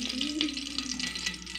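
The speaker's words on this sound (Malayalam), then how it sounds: "ചോന്നുള്ളിലേ വഴറ്റിക്കൊണ്ടിരിക്കുന്നു" Shallots sauté in a pan with a soft, steady sizzle, while a voice speaks faintly over the frying.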